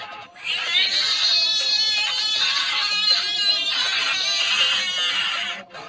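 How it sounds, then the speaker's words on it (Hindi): A frog calls with a wailing, sobbing cry much like a human infant, a sustained strained bawl with pulsing breaks, moderately loud and alone. "ये मेंढक छोटे इंसानी बच्चों के चिल्लाने की तरह ही मजेदार आवाज निकाल रहा है"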